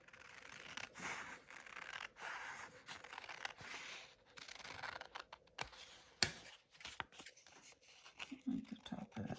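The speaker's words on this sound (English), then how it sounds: "And I'll take my scissors." Scissors snip through paper in a series of close, uneven cuts and clicks, with brief pauses and a few crinkly rustles between them.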